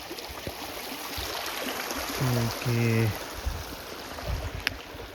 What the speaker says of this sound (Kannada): ಇಲ್ಲಿಂದ ಹೊರಗೆ ಬಂದು ಅಲ್ಲಿ ಹೋಗ್ತಾ ಇದೆ ನೀರದು